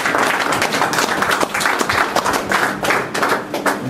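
A church congregation claps and acclaims together, dense loud applause with rapid overlapping hand claps and a few raised voices mixed in, close and continuous.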